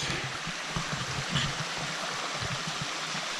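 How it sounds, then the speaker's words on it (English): Forest stream flowing steadily, a close, continuous rush and gurgle of water with soft splashing, heard alone with no voices. "Let's just enjoy the stream and the water while we experiment."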